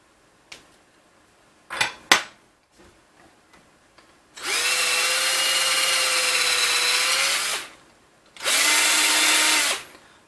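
Power drill boring holes with a 5/16 inch bit during assembly of a Reprap Wilson TS 3D printer, two sustained whining bursts of about three and two seconds after a few short clicks and taps, close and loud, no talking.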